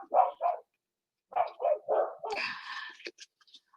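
Dogs barking at a backyard fence: a series of sharp, close barks in short bursts, then a pause and another run of barks that ends with a rougher, noisier bark and a few fading yips.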